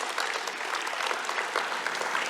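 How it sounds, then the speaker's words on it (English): Steady audience applause at a scholarship awards ceremony, a crowd clapping densely and continuously throughout at a moderate, even level, with no voices over it. "Ladies and gentlemen, another round of applause for Honourable Barbara Edmonds."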